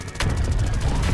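A mortar launches in the zombie video game 1 Million Zombies with a sudden sharp blast, followed by a dense, rumbling barrage of rapid impacts that continues to the end.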